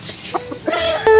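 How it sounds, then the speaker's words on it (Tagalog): Chickens at a small game farm cluck in short, close bursts, a few soft calls followed by a sharper squawk near the end, with no talk over them. "May manok."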